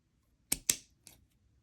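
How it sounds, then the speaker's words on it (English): Scissors snip through the thread loops of a tassel for a pearl lariat necklace: two crisp, close cuts in quick succession, then a fainter third snip, against near silence. "I'm going to go ahead and cut through my loops"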